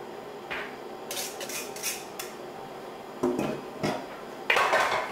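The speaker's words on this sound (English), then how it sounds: "let's get these potatoes in the pan" Potatoes are tossed and shuffled in a pan to dry out, giving a few scattered clattering, scraping bursts of metal cookware, with quiet pauses between them.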